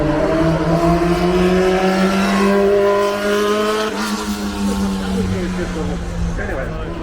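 A racing car at the Goodwood Festival of Speed, engine note loud and close, rising in pitch through a rev, dropping at a gear change midway, then climbing again while voices talk over it.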